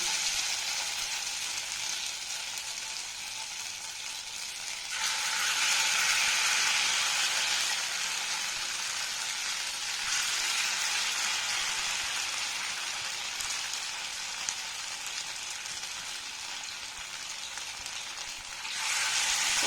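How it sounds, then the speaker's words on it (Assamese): Steady crackling sizzle of Maggi noodle pakora batter frying in hot oil in a wok, rising a little louder in bursts, with no voices. "তেলখিনি গৰম হোৱাৰ পিছত লাহে লাহে মেগীৰ নুডলছখিনি মিশ্ৰণ কৰি লৈছিলোঁ"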